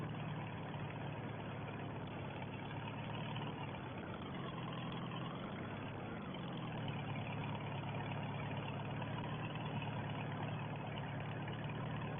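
A 1950 Farmall 300 tractor engine running on a farm, a steady low rumbling drone that dips briefly in pitch midway and then holds even, with no talking.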